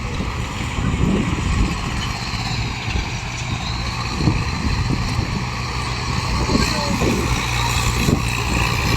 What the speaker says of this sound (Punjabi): ਆਪਦਾ ਟਰੈਕਟਰ ਲੈ ਕੇ ਪਹੁੰਚ ਗਿਆ ਜੀ